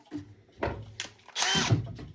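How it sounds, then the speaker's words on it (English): A power drill with a paddle bit bores holes into a plastic NEMA box, several short whirring bursts building to a longer, louder grinding cut, close up with no talking. "The name of today's video is Drilling Holes in Plastic the Wrong Way."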